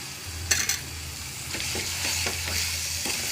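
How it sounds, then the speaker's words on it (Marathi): A roasted paste of onion, coconut, poppy seeds and coriander seeds fries in oil with a close, steady sizzle, a sharp clink of a spoon early on and several scraping stirs that follow. "ही पेस्ट घातल्यावर छान तेलामध्ये ही पेस्ट होऊ द्यायची आहे।"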